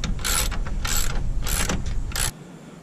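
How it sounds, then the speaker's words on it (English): A ratchet wrench with a 10 mm socket backs out bolts from a Ram pickup's grille, four bursts of quick, close metallic clicking separated by short pauses, then the sound cuts off. "We'll go ahead and take those out now."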